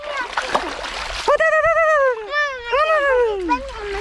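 Water splashes in a river during traditional hand fishing for small fish in a Bastar village, a burst of splashing giving way to children's and adults' voices calling out close by.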